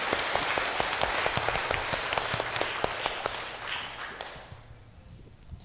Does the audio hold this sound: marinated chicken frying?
no